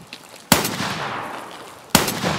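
Two sharp, loud gunshots ring out in the video game Escape From Tarkov, about a second and a half apart, each followed by a lingering echo.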